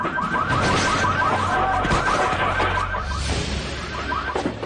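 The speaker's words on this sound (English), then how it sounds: "When the alarm sounds, the hoodlum hurls himself back over the counter." A loud, continuous electronic alarm wails in repeating cycles over a dense, noisy background.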